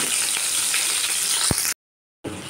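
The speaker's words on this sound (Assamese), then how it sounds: "তাৰপিছত পিঁয়াজ অকণমান দি দিলোঁ। এইখিনি ভালদৰে লৰাই থাকিম।" Onion sizzles loudly in hot oil in a pan for a bamboo shoot curry, with a single stirring knock partway through, then a half-second dropout of silence before the frying resumes.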